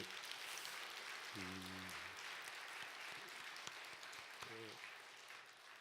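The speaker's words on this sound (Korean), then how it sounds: "박수 한 번 더 쳐주세요" Very faint applause from a church congregation, an even patter of many hands in the background, with brief low tones surfacing twice.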